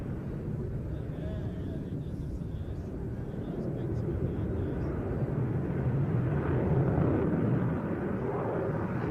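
Jet aircraft climbing hard in full reheat during an evening air show display, a loud, steady, broadband roar that swells slightly toward the end, with a commentator talking over it.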